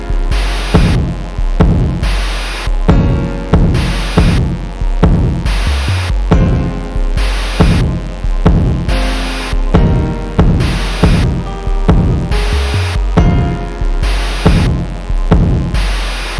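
Remade hip-hop beat with a choir layered in: loud, steady looping drums with regular hits and bursts of noise, sustained sung tones beneath, continuous for the whole stretch.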